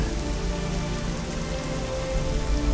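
Steady, dense rain pours onto surfaces in a dark fantasy video game, a loud continuous hiss with no voices over it.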